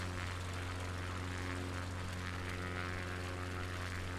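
Steady, loud drone of a light aircraft engine in flight as it nears landing over the coast near Exmouth, a constant hum with strong low harmonics running throughout without talk.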